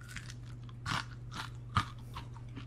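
Crunchy cooked bits of food are being chewed: a few crisp, close crunches stand out over a steady low electrical hum, with quiet gaps between bites and no speech.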